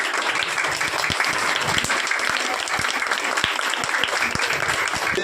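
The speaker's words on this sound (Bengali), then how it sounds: "হাততালি দাও সবাই।" A crowd claps together in sustained, enthusiastic applause at a school ceremony honouring students for exam results, dense and steady throughout with no pauses.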